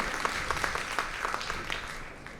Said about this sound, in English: Guys, a bigger round of applause.